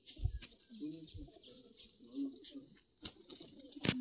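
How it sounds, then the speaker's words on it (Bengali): A pigeon perched nearby gives soft, low cooing calls that repeat in short bursts over a steady high insect-like hiss, with a few sharp knocks and rustles near the end. "এই পায়রাটা এই বসে আছে এখানে।"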